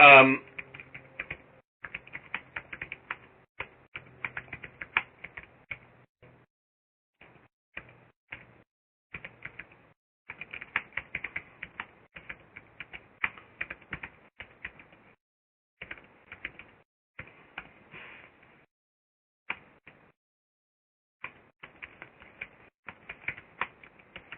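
Someone types on a computer keyboard while entering data in an Excel spreadsheet, producing quick bursts of crisp, close key clicks separated by short pauses. The tapping starts and stops irregularly, and a voice is heard briefly at the start.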